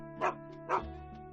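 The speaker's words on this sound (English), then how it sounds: "Dog," A dog lets out two short, sharp barks about half a second apart, clear and alone against a quiet background.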